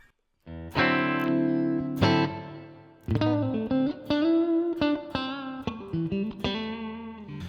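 Electric guitar played through a Line 6 Pod Express modeler with plate reverb, sustained chords and picked notes ringing out with a shimmering reverb tail, close and fairly loud with no talking.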